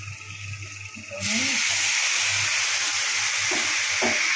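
Spices dropped into hot oil with fried onions in a pan for a Bengali tilapia kalia curry set off a sudden loud, steady sizzle that carries on unbroken, with quieter kitchen sounds before it.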